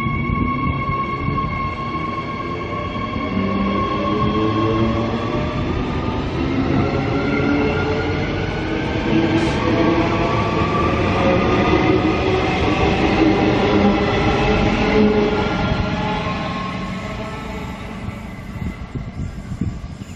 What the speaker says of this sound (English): Train coming right now might be the Westlander.